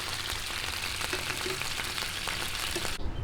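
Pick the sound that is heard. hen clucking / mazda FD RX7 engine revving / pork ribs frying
pork ribs frying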